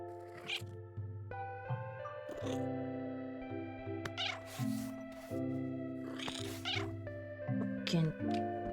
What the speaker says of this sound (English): Stupid cat.